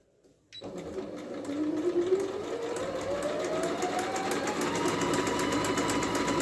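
A Singer Pitline 6580 sewing machine starts up and runs a triple stitch, a fast, steady mechanical whir and needle clatter close by that gradually rises in pitch, with no talking.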